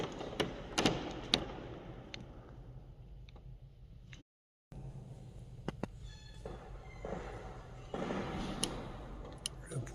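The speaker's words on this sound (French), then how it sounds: "Le plancher est magnifique, mais un peu bruyant quand on marche dessus." Old wooden floorboards in a historic building give off scattered sharp creaks and ticks underfoot, faint and close, irregularly spaced across a quiet room with one brief silent gap.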